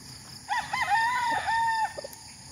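A rooster on a gamefowl farm gives one clear, close crow lasting over a second, rising and wavering before trailing off, with faint background noise.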